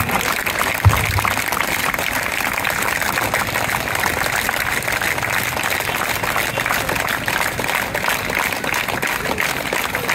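A large crowd of Ayyappa devotees in a village clapping loudly, a dense continuous wash of applause that holds steady throughout, with one brief low thump near the start.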